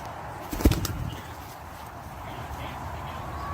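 A pigeon bursts into flight as it is let go, a brief, close flurry of flapping wings in the first second, then dying away to low outdoor background noise.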